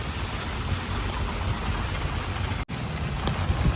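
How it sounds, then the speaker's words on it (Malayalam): Heavy rain pours steadily in Kattappana town, a dense continuous hiss of drops drumming on surfaces, with one brief dropout near the end. "മഴയൊന്നും കുറയുന്നില്ല കേട്ടോ"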